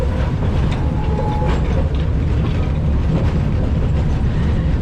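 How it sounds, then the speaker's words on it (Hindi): A small narrow gauge train at a railway museum in Nagpur rolls along, a loud continuous rumble with rattling wagons and faint rhythmic wheel clatter, heard from on board with no talking. "छोटी सी ट्रेन, नैरो गेज।"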